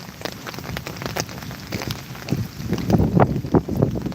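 Rain patters steadily on a large umbrella held during an outdoor walk, a dense close drumming of drops with small gusts of wind, growing louder toward the end, with no voices.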